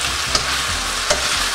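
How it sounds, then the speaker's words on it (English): Bell peppers fry in a pan for a Macedonian fried pepper dish, a steady close sizzle running throughout with two brief stirring scrapes. "Keep frying your peppers, guys."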